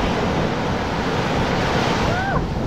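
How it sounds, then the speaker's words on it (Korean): Ocean surf rolls onto a long sandy beach in Da Nang, a loud continuous wash of breaking waves mixed with wind buffeting the microphone and a brief faint voice. "밀려오는 파도"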